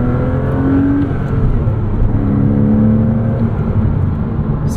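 A 2006 Porsche Cayman S with a six-speed manual and 295 hp engine drives along, its engine holding a smooth, steady low drone from the cabin with mild road roar, no voices.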